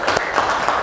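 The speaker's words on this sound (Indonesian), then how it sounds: "tepuk tangan untuk kita semua." Brief burst of classroom applause from students, a short spread of clapping at moderate loudness with no voices over it.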